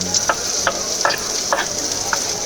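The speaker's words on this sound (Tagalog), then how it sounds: "halo-haloin na natin hanggang lumabas yung katas ng ating mga sahog" Ginger and onion sauté in a hot pan for tuna bicol express, with a steady sizzle under five evenly spaced scrapes of a spatula stirring the mixture.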